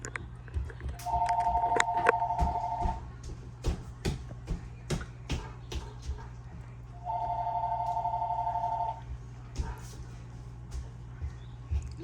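A telephone rings indoors in a home kitchen, two long electronic trilling rings about six seconds apart, loud and near over clattering cooking noises and a steady low hum.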